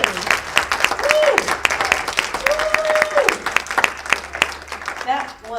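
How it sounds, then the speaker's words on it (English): A crowd gives sustained applause, many hands clapping steadily, while a voice and a few brief tonal sounds come through over the clapping before it tapers at the end. "Can we have one more round of applause for Patty and David?"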